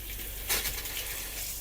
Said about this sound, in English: I'm going to turn the hot water on and we'll see what happens.